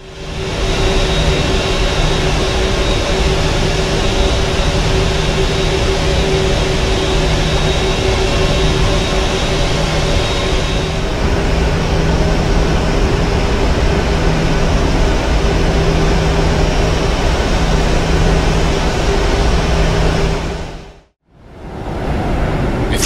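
Jet engines of a Boeing 737-800 idling in the FSX flight simulator: a steady, loud, continuous whine and rumble with a constant tonal hum, unchanging for a long stretch before cutting out abruptly near the end.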